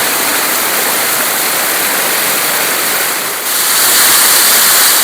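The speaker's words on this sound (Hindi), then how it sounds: "नाले में बहुत पानी है, स्लिप का ज़्यादा खतरा है।" Fast-flowing mountain stream swollen with water in the snowy Sarthal Valley of the Himalayas, a loud, steady broadband rush close by that swells slightly louder partway through, with no voices.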